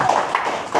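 A church congregation claps for God during a Swahili sermon, giving quick, dense applause with sharp slaps close by, loud and continuous for a moment.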